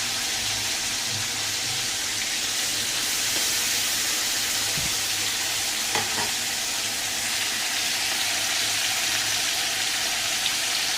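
Spices such as cardamom, cinnamon and cloves sizzle as food fries in a pan at home, a steady broadband hiss lasting throughout with a couple of faint clinks, no voices.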